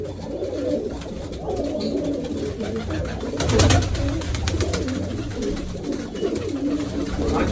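Pigeons kept by a Punjabi pigeon fancier coo steadily in a low, throaty murmur, several birds overlapping close by with a brief louder burst midway, over faint background noise.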